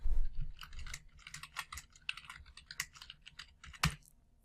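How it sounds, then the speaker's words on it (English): Rapid, irregular clacking of keys on a computer keyboard as a document heading is typed, close and clear with short pauses between bursts, no voices. "All you have to do is type your heading,"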